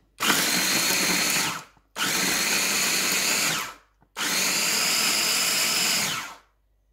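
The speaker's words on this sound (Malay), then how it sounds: "Okey, semua bahan dah masuk ke dalam blender. Now kita nak blend semua ni." Electric blender whirring through sambal belacan ingredients, three loud close bursts of a few seconds each with short pauses between.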